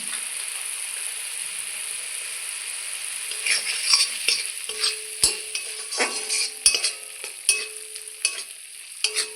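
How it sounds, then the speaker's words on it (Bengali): Spices with Kashmiri chili powder and cumin powder sizzle steadily in a pan, with a spoon scraping and knocking against the metal in a series of distinct strokes that grow more frequent. "মশলা ভালোভাবে কষিয়ে নিয়েছি"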